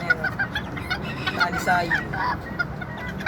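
Bantam chickens bred at home cluck and squawk in overlapping calls, fairly close and continuous, with a voice speaking briefly among them.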